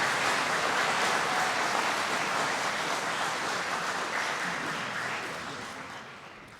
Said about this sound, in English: how about another round of applause for this group of candidates here?